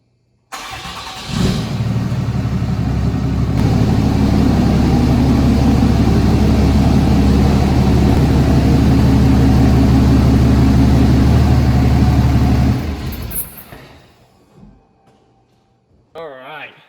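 A truck engine starts and idles loudly up close, a steady low rumbling drone for about ten seconds as it pulls into a garage, then cuts off, leaving quiet with a brief noise at the end.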